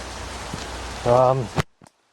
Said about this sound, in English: Heavy rain like this, like I said, I don't like it when it's heavy rain.